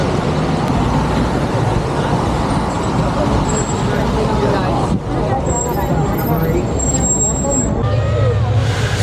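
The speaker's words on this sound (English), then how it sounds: "once the bus did show up, everything went swimmingly" A Chicago city bus rumbles close by amid street traffic and crowd chatter, with a brief hiss like air brakes releasing partway through.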